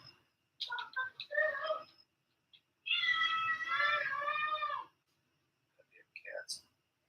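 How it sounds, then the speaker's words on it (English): Cat meows, several short calls early on then a longer drawn-out wavering meow in the middle, followed by a brief final cry, fairly close with quiet gaps between. "Cats."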